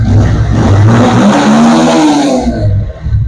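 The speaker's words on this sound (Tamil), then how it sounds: "செல்ஃபி ஸ்டார்ட் சூப்பரா இருக்குங்க பாருங்க" A Bajaj Pulsar 150cc motorcycle engine starts on its self-starter and revs loudly up close, the note rising and holding steady before easing off near the end.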